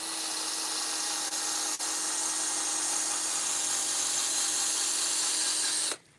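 A steady high-pitched whine of a power drill polishing a foggy car headlight runs continuously, loud and close, then cuts off abruptly near the end.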